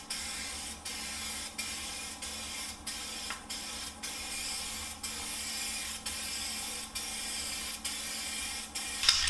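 An aerosol spray can coats car headlights in a steady, continuous hiss, broken by brief pauses roughly every second as the nozzle is pressed in short repeated bursts, close and fairly loud.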